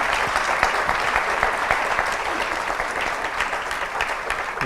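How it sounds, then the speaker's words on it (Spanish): An audience at a book presentation applauds its speaker, a dense, steady wash of clapping from many hands at even loudness, without a break. "un aplauso para mi maestro"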